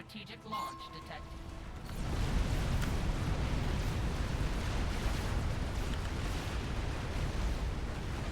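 Mobile artillery barrage in Supreme Commander: Forged Alliance, a 4v4 match on Seton's Clutch with a huge artillery army at unit cap, rising after two seconds into a dense, continuous roar of overlapping booming impacts, with a voice talking faintly beneath.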